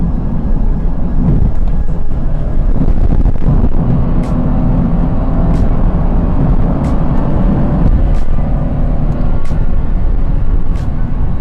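A Lexus IS 250 AWD sedan cruises on a highway, a loud continuous roar of road and engine noise with occasional faint ticks.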